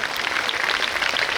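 A seated crowd at a village gathering in Hipparagi claps for a photographer, a short, even burst of many hands.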